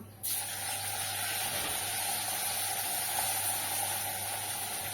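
Pumpkin fritters (bora) sizzle in hot oil in a wok: a loud, steady, close frying hiss starts abruptly and continues without a break.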